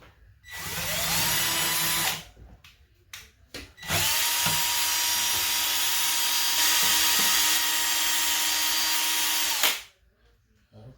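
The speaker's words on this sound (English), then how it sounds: "I just have a paint stirrer on the end of a drill motor." A power drill fitted with a paint stirrer, mixing hydroponic nutrients, whirs steadily for several seconds, stops briefly with a few short bursts, then runs continuously again before cutting off.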